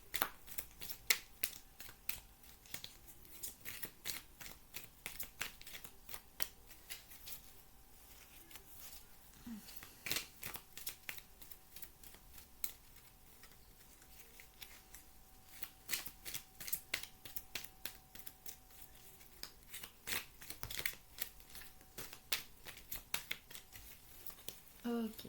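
Tarot cards are shuffled and drawn in a steady run of close, crisp flicks and snaps, with quiet speech underneath at times.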